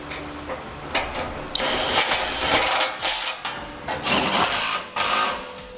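Bolts are snugged down on a Curt front mount trailer hitch receiver on a 2014 Toyota, a power tool buzzing in short repeated bursts with clicks and metallic taps between them.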